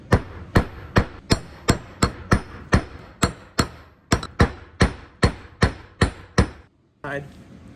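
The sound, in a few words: hammering a cable stop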